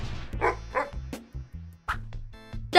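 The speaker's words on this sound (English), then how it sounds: "Dog." A dog gives a series of short barks and yips at an uneven rhythm. There are gaps between them and a quiet musical backing under the barks.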